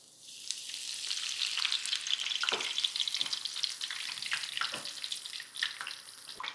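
Long-sliced onions frying red in hot oil for a dry tondli bhaji, a dense crackling sizzle that swells and stays loud, broken by sharp spatula scrapes and stirs, close by with no talk.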